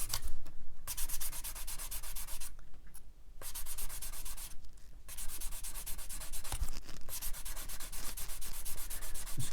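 Sanding stick, down to 120 grit, rubbing across the plastic wing of a Tamiya 1/32 Vought Corsair model: close, steady scratchy strokes in runs, broken by a few short pauses, with no talk.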